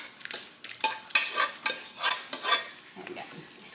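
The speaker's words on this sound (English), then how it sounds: "Stir it up a little bit more." A spoon stirs Tex-Mex spaghetti with meat in a big pot, giving repeated wet scraping strokes in an uneven rhythm, close and fairly loud with no voices.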